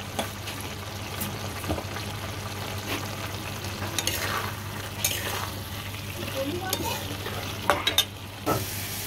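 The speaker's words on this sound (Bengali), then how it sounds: "এটা আমি ভাজা ভাজা করে নামালাম" Chicken bharta mixed with eggs sizzles and is stirred in a pan, a steady frying hiss broken by scraping strokes and a few sharp clinks of the utensil near the end.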